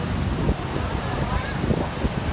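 Water roars out of the opened gates of Bargi Dam, a loud broadband rush with wind buffeting the microphone and a voice talking over it.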